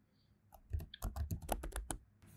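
Someone types a twelve-word seed phrase on a computer keyboard, producing a quiet run of close, irregular key clicks with short gaps between bursts.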